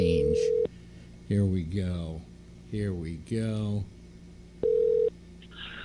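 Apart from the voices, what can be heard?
telephone dialing a long-distance call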